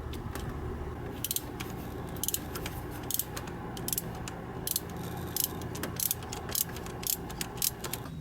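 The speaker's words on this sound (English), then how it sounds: "Come under here with your 10mm socket, remove the 2 stud nuts," Ratchet with a 10mm socket loosening the two stud nuts on a scooter muffler, giving bursts of rapid metallic clicking that repeat steadily at close range over a low background hum, with no talk.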